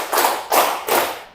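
Three broad claps from a group, spaced roughly evenly in a steady counted rhythm, loud and close, each a burst of many hands together.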